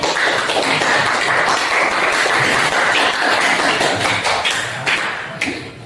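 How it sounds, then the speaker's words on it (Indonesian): A classroom gives a student named Junior a round of applause after he works a maths problem on the board, a steady, dense patter of many hands clapping close by that carries on throughout and tapers slightly near the end. "Saya beri tepuk tangan untuk Junior"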